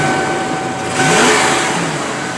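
The engine of a 1993 Dutchman motorhome runs close by, a mid-pitched idle that swells briefly as it revs, then settles back to a steady hum.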